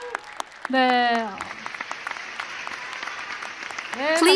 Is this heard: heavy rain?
no